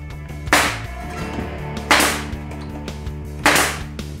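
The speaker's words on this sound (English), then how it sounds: "I'm just gonna stick these on real fast with my nail gun" Nail gun driving nails into a wooden cabinet: three sharp, snappy shots spaced about a second and a half apart, each loud and close, with quiet pauses between.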